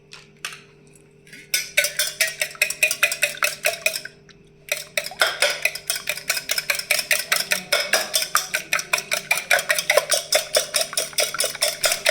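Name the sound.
whisking eggs in a bowl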